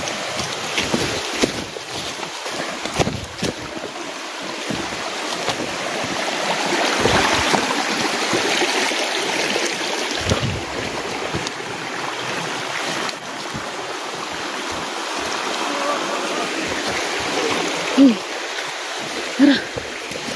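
River water flowing steadily as a continuous broadband rush, close and moderately loud, with wind buffeting the microphone and a couple of brief louder splashes near the end.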